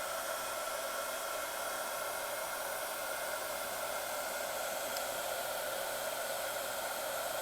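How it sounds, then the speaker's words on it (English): A hair dryer blows with a steady, loud, airy whoosh that holds unchanged throughout, with no voices. "I don't know if you can hear me over the dryer"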